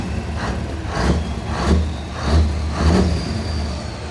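A lorry at the Scotplant 2024 machinery show rumbles past close by, its engine swelling in a few repeated surges as it moves, with no talk over it.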